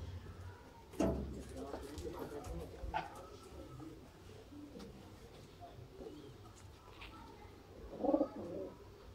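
Teddy pigeons coo softly in a loose, irregular pattern, with occasional wing or cage knocks, while someone talks over them.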